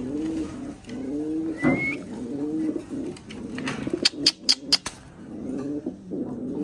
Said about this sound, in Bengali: খুব সুন্দর কোয়ালিটির এক পেয়ার কবুতর